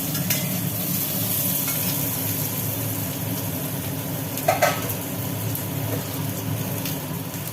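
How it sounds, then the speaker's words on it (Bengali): Potatoes frying in oil in a home kitchen, a steady broadband sizzle running unbroken throughout at moderate level, with a brief clatter midway and no voices. "আলুগুলো ভাজা হচ্ছে"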